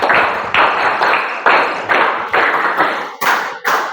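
Clapping rings out during a riddle quiz show after a correct answer, about eight loud, evenly spaced sharp claps in a steady rhythm, close and without talk.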